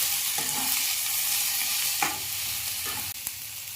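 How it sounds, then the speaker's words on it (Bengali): Drumstick and potato curry sizzling in a pan over medium heat, with a steady frying hiss and a few spoon scrapes and stirring strokes close by, no voices. "এবার একটু নেড়ে নেব"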